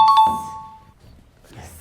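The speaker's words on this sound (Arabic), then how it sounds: "ايده جت على الجرس" A quiz-game bell is struck once, giving a sharp bright ding that rings and fades over about a second, followed by faint rustling and a short breathy voice.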